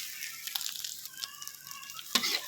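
Sweet preserved radish stir-fried in a pan until slightly scorched, giving a steady soft sizzle with scraping stirs and a sharper burst of frying near the end, heard alone without talk.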